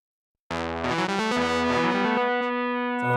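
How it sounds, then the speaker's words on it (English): A 1965 Mello D Maker electric guitar rings out a sustained chord, its notes smeared and repeating through a delay effect, loud and close with no voices. "I'm going to see what it sounds like with a little delay."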